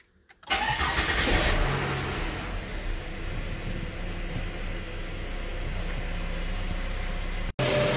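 A 2006–2008 BF Ford Falcon engine cranks and fires up during a coolant flush, settling into a steady close-up idle with a brief dropout near the end.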